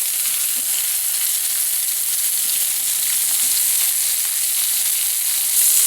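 Pork frying in a pan, a bright, continuous hissing sizzle heard close and fairly loud, steady throughout with no speech.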